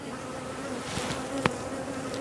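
Honey bees buzz around a hive in a dense, continuous drone, close and steady, with a few sharper passes as individual insects fly near.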